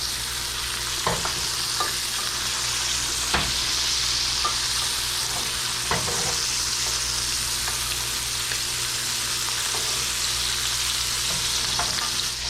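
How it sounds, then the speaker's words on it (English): Butter spooned over a ribeye steak in a hot pan gives a steady loud sizzle, broken by regular clinks and scrapes of the basting spoon against the pan, with no voices. "we're going to start butter basting."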